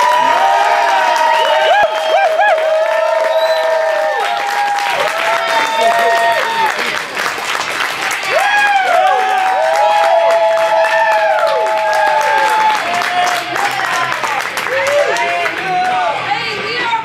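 A crowd gives loud applause, cheers and whoops for a band. The clapping is dense and sustained, and excited voices shout over it all the way through.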